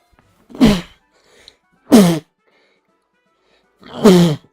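Three sharp sneezes from a person, spaced well apart with near silence between them, close and fairly loud.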